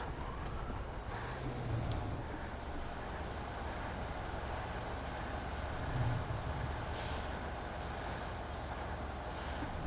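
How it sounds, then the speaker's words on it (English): A winch truck's engine idling in the off-road driving game SnowRunner, a steady low rumble running throughout with a couple of brief hiss-like bursts, fairly quiet and with no talking. "Turn on engine on the winch truck."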